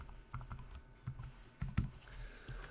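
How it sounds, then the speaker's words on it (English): A password being typed on a computer keyboard: a quick, close, quiet burst of irregular key clicks with no talking. "then we'll type in a password"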